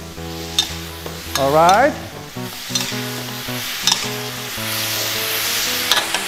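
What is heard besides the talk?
onion sizzling while being stir-fried in a pan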